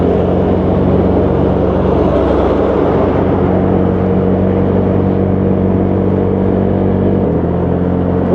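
Trucks and traffic on a Bali road, heard from a moving scooter, make a loud, steady engine drone and rush of wind with a heavy low rumble that shifts slightly midway, with no talking.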